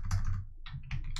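Quick bursts of clicky keystrokes on a computer keyboard, typed close up in two short runs with a brief pause between them.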